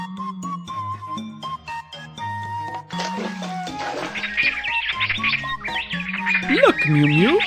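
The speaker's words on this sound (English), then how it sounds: "there are some birds" Cartoon birds in a BabyBus rainforest game chirp and squawk, bright tweets and a few rising calls layered over upbeat game music with bouncy tones.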